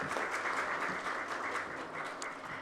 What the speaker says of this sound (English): Please do welcome him with a round of applause.